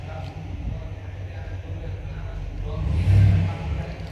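A freshly overhauled Chevy Suburban engine idling around 1000 RPM, a steady low rumble with a brief swell in revs near the end, heard beneath someone talking.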